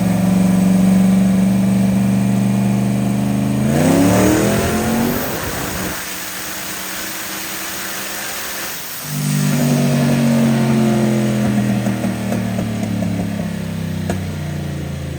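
A tuned car engine runs at high power, with a loud revving climb that drops to a lower drone, then surges back to a strong, sustained high-rev roar. It is close and loud, with no talking.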